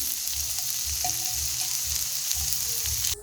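Ingredients for an okra masala curry sizzle and fry steadily in a pan, a dense close crackle with a faint low stirring rhythm beneath it and no talking.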